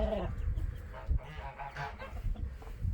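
A goose-like honking call from nearby fowl, a few short bursts over low rumbling background noise in an enclosed space.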